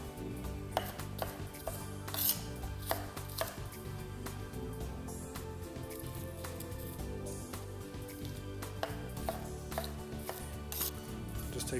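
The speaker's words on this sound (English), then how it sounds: "Slicing into the middle, we pull out the pips and just slice out any of that white membrane." Chef's knife slicing into bell peppers and trimming out the white membrane while making spaghetti bolognese: a close, steady run of crisp cuts and taps on a board, with no talking.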